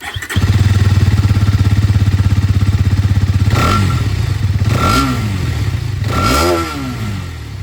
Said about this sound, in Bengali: এবার আপনাদেরকে আমি এখানে যে এক্সট্রিম 50R আছে সেটার আওয়াজ একবার শুনিয়ে দিই।